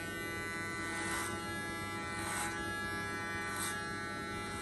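Electric hair clipper buzzing steadily while cutting hair over a comb, with three brief swells as the blades pass through the hair; close and fairly quiet, no talking.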